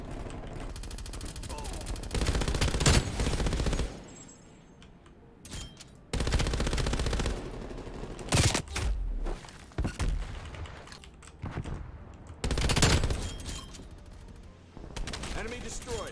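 MG82 light machine gun in Black Ops Cold War multiplayer, firing in several sustained bursts between short pauses, loud and close, with game effects around the shots.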